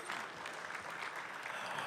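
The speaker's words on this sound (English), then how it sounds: "Let's do a little round of applause real quick" A library audience at an author talk gives a brief round of applause, a soft continuous patter of many hands clapping at a moderate distance, with no voices over it.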